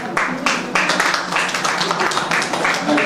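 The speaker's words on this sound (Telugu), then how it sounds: "క్లాప్ కొట్టండి" An audience at a police and school gathering claps in a quick, steady patter of many hands, fairly close and continuous, with faint talk mixed beneath.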